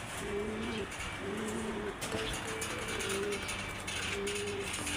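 Domestic pigeons coo in soft, repeated low calls, a few phrases spaced apart against faint background noise and occasional clicks.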